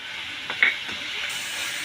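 Ginger garlic paste hits hot oil with fried golden onions and gives a soft, steady sizzle and hiss, with a brief stirring rustle near the start.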